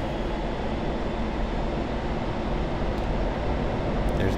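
F-16 jet making a flat pass at maximum speed, Mach 0.92, about 300 feet above a runway in DCS, a steady loud roar of engine noise throughout.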